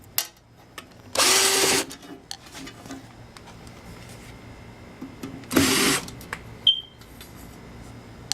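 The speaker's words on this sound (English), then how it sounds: "So I can get the screws out of the lathe." A power tool driving screws out of a lathe, two short loud whirring bursts separated by quiet handling clicks and small knocks, close by.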